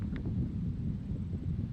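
Steady wind buffets the microphone on a logging road, a continuous low rumble with no gaps, heard alone and fairly loud throughout.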